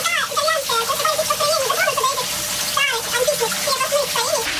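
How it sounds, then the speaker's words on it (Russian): Water rushing and splashing steadily in a park fountain in Rome, a continuous bright gush close by, with voices and whistling chatter of birds or people faintly mixed over it. "Это шум воды, пенки, свежесть воздуха."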